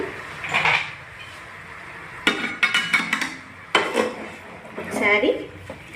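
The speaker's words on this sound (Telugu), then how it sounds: "అన్నీ మిక్స్ చేసుకోండి. చికెన్కి మసాలా అంతా పట్టేలాగా మిక్స్ చేసుకోవాలి." Chicken being mixed by hand with masala spices, paste and salt in a bowl for a home-style chicken curry, giving irregular wet squelching bursts and a few clinks against the bowl, close and moderately loud.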